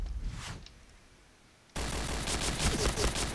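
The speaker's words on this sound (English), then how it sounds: "Oh, I threw a grenade. Does that kill him?" A grenade explodes in a multiplayer video game shootout: a brief burst at the start, near-silence, then a sudden loud blast that rolls into sustained, crackling gunfire-like rumble for the remaining seconds.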